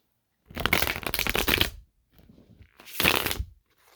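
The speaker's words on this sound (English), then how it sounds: "Well, at least this one's easier to shuffle." Kitty Tarot cards riffled and shuffled by hand in two close, crisp bursts of rapid flicking with a brief quieter shuffle between, no talk over them.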